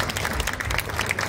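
Applause from an audience for the singers at a Gujarati garba dance event, a steady, dense wash of clapping that carries through the whole short moment.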